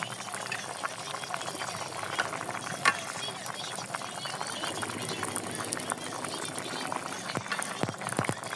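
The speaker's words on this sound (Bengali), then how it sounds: "তরকারিটা দেখেন বলক উঠে গেছে" A pot of curry with pointed gourd, potato and pangas fish bubbles at a rolling boil, giving a steady fizzing, crackling simmer with occasional louder pops.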